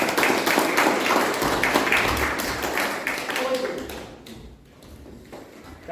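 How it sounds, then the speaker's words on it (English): A crowd at a club installation ceremony claps in a dense, sustained burst of applause that slowly thins and fades toward the end, with voices mixed in. "Please join me in giving a big round of applause."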